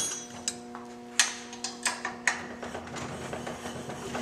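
Light clicking and ratcheting ticks as the cap is unscrewed while fitting front air ride suspension, irregular sharp metallic clicks over a faint steady hum.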